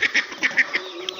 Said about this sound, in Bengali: এগুলো ভিয়েতনামি হাঁস, সাদা ট্যাপি হাঁস, এখনো ডিম পাড়া শুরু করে নাই।